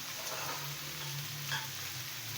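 Carrots, capsicum and onion frying in a pan for white sauce pasta, a low steady sizzle with a faint hum underneath and one brief stirring clatter midway, no speech.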